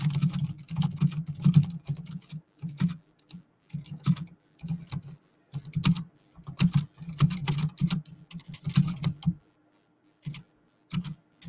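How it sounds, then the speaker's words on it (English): Fingers typing on a computer keyboard: bursts of quick clicking keystrokes with short pauses between, close and clear, no one speaking. "I was typing"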